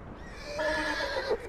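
A horse in the video game Red Dead Redemption 2 lets out a close, loud neigh that swells through the middle of the moment and tails off with a short snort, with no talking over it.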